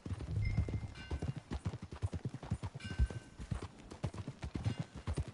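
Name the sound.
horse hooves clip-clopping in a video game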